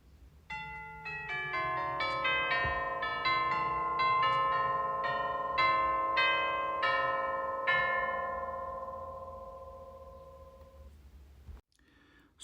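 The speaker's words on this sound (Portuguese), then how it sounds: "Sinos." Bells ring out in a bright cascade of overlapping chimes, building briefly then ringing down into a long, fading resonance before cutting off.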